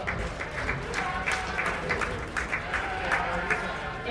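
A crowd claps for two market ewes at the Montgomery County Fair sheep show, with scattered, moderately loud applause in an arena and an announcer's voice talking over it.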